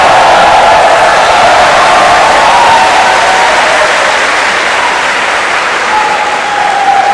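A Vietnamese crowd at a three-cushion billiards final in Ho Chi Minh City gives sustained, dense applause that stays loud and steady throughout.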